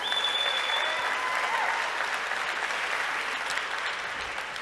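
An audience at the Clio Cloud Conference 2023 opening keynote claps in dense, sustained applause that fills the hall and tapers slightly toward the end.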